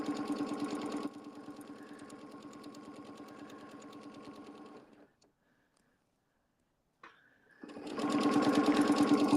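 A sewing machine stitching a log cabin quilt pattern runs in a fast, steady rapid-fire whir, slows slightly, stops for about two seconds of silence, then restarts louder and faster, close and alone.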